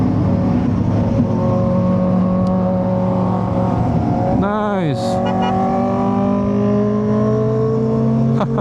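A motorcycle engine revs as it passes close by with a rising then falling pitch, over steady road rumble; a voice speaks briefly afterward.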